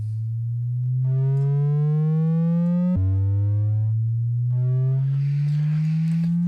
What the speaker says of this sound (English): straight up square wave.